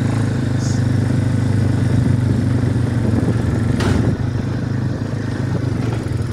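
A farm motorbike with a centrifugal clutch runs steadily while being ridden, its engine a continuous mid-pitched drone with some rattle, close and fairly loud throughout.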